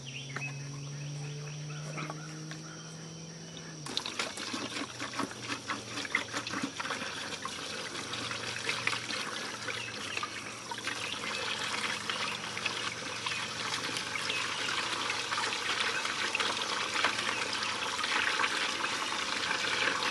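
Fuel pours steadily from a spout into the gas tank of an antique Swisher zero-turn lawnmower, a continuous close trickling gurgle lasting many seconds after a brief hum fades out.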